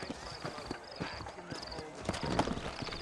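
Horses in the Red Dead Redemption video game, hooves clopping in a steady rhythm with a brief whinny, under game sound and a voice talking nearby.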